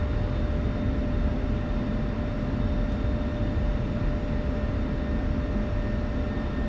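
An F-16 jet in the DCS flight simulator rolls down the runway after landing, heard as a steady, dense engine roar and rumble that holds unchanged throughout with no voices.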